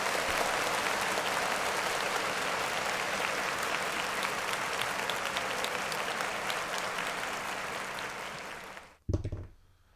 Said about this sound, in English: Clap it up for Future.